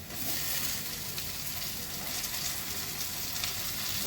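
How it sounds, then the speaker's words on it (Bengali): Onions frying with salt and turmeric sizzle steadily as a tomato is added to the pan, a loud, continuous hiss with no talking. "একটা টমেটো দিচ্ছি"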